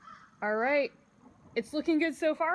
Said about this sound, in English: I can hear some crows in the background.